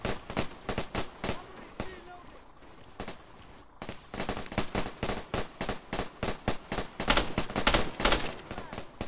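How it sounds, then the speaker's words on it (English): Rapid gunfire from a firefight in the video game Arma 3 (Antistasi), with dense bursts of loud, sharp shots cracking in quick succession throughout. The firing pauses briefly, then resumes heavier and more continuous. "Trying to have a civilized firefight here."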